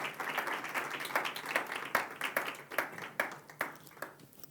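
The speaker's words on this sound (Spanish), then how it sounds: "Un fuerte aplauso para ellos" Steady applause from a conference audience at a business forum, dense clapping that gradually thins out toward the end.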